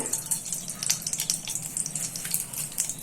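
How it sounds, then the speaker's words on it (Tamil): Mustard seeds and cumin spluttering in hot sesame oil in a kadai, a continuous close crackle with dense rapid pops and no talk. "இப்போ கடுகு நல்லா பொரிஞ்சு வந்ததுக்கு அப்புறம்"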